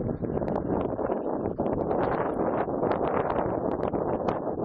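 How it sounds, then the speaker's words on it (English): Wind gusts during a snowstorm on the National Mall in Washington DC, a loud continuous buffeting roar battering the microphone close up, with no speech. "The wind seems to be behind me, which means it's coming from the east."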